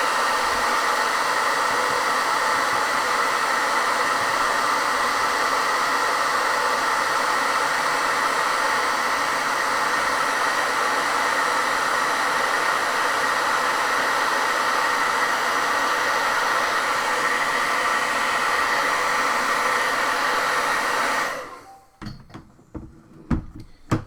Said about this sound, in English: let's go ahead and hit that little bit with the hairdryer